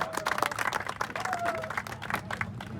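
A crowd at a village cricket league ceremony claps in a loose, moderate burst of applause, with faint voices mixed in under the clapping.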